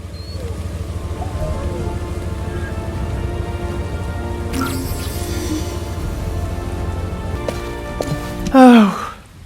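Rain falling in a cutscene of the sci-fi shooter game The First Descendant, a steady dense hiss throughout with tonal music and effects layered over it, swelling briefly near the end.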